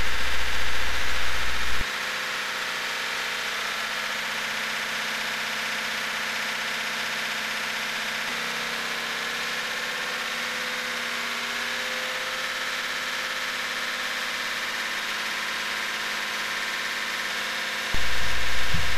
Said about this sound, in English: the engine is stepped up to its horsepower peak at